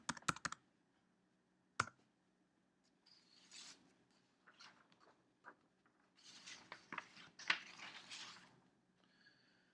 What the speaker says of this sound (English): I'm going to type their name into the main search box and press enter